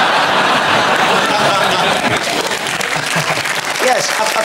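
Studio audience applause on a British comedy panel show, loud and dense clapping with a few chuckles in the crowd, sustained at an even level from start to finish.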